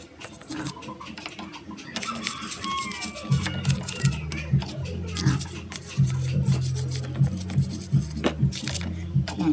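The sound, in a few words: scrubbing an engine with a brush and cleaner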